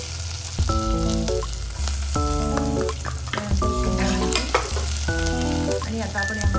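Carrots sizzle and fry in a pan for a homemade mushroom soup, with steady crackling and repeated clinks and scrapes of stirring.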